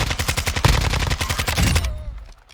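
Fast automatic gunfire during a Call of Duty firefight, a rapid, evenly spaced stream of sharp shots with a few heavier thumps, cutting off abruptly near the end into a faint tail.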